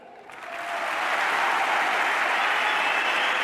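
Loud audience applause at a talk in Madrid swells up within the first second, then holds as a dense, steady roar of many hands with no voices.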